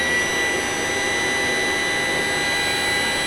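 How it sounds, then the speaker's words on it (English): Electric generator inside a Type 69 tank spinning after being switched on, a loud steady whine with a continuous high-pitched hum and no pauses, heard close and alone. "You hear the generator spinning."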